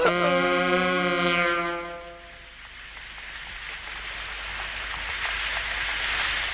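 Steady rain falls with a broad hiss, joined by a fading musical tone at the start, then continuous downpour noise that holds for several seconds.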